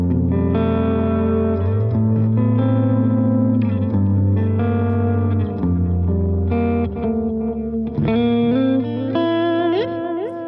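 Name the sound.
ambient guitar tone with long delay feedback on Line6 Helix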